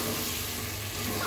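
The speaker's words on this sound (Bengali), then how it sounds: "তো চিকেন আর আলুটা একটু কষিয়ে নিব ফার্স্টে" Broiler chicken pieces and potato sauté together in a hot pan, giving a steady, dense sizzle that holds close and even throughout, with no voices.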